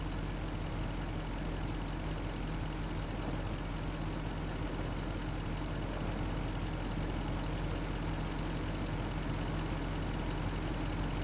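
A truck engine idles steadily in Farming Simulator 25, with a constant low droning rumble that runs evenly throughout and has no speech over it.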